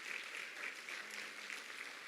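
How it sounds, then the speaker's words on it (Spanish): Quiet, steady clapping from a church congregation, fairly distant and soft, continuing evenly for about two seconds. "Un aplauso."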